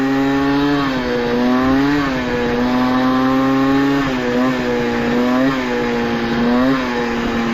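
A Peugeot 103 SPX moped engine fitted with a new air box and an SHA carburettor buzzes loud and close at a steady idle, with small regular blips in pitch every second or so.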